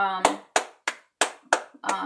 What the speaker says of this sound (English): hand clap of happiness for the South African taxi team